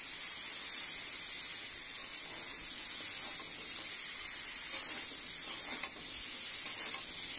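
Pumpkin pieces tossed into potatoes frying in oil, giving a loud, steady hissing sizzle close by with faint stirring scrapes underneath, no speech.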